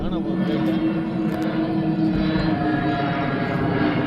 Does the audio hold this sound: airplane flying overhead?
yes